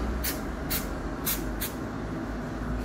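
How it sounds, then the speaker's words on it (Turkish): Brake cleaner is sprayed onto the corroded connector pins of a Chevrolet Captiva accelerator pedal in four short hissing bursts, with a low steady hum underneath and no talking. "Bunu da balata spreyiyle yine aynı şekilde temizleyeceğiz."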